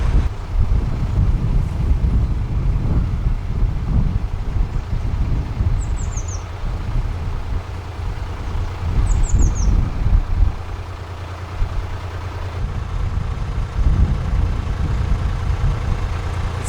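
Steady gusting wind buffets the microphone outdoors beside a narrowboat on a canal, a continuous low roar rising and falling for the whole stretch, with a couple of faint high bird chirps far off and no talking.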